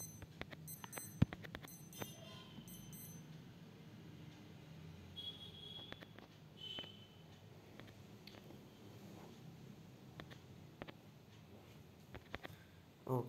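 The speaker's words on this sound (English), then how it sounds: "it's just my watch alarm" A wristwatch alarm beeps faintly at intervals through a quiet stretch of video game play, a few short high tones near the start and scattered light clicks after, with no talking.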